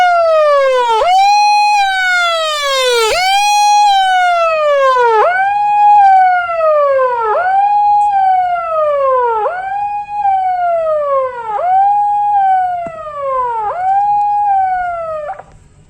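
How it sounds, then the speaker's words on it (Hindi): A loud wailing siren sounds for a safety mock drill at a company site, rising and falling in steady repeated sweeps, sustained and close, continuing for the whole stretch. "अभी जो सायरन बजा था वो हमने मॉकड्रिल किया था।"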